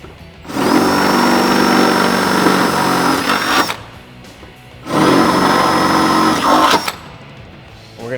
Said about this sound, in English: We're going to drill these two out.